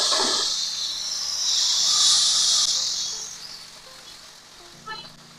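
Green jackfruit frying in hot oil with turmeric and salt, a broad steady sizzle that swells midway and then eases off, close by, with a brief clatter near the end.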